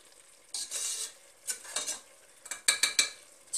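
Onion, chicken and tomato fry in a pot, a soft sizzle broken by repeated stirring scrapes and clinks of a utensil against the pot, close and intermittent.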